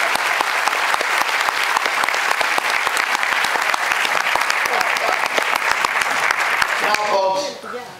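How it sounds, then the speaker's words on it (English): An audience at a talk in Stockholm breaks into loud, sustained applause, a dense rapid patter of many hands that fades out near the end as a voice begins. "Thank you very much. A round of applause."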